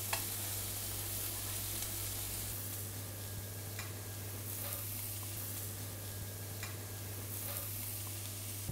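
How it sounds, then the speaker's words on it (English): Lamb meatballs sizzle steadily in a pan of cream sauce, a constant close crackling fry with a low hum beneath and occasional soft stirring clicks, no voices. "So you cook them directly then in the cream sauce?"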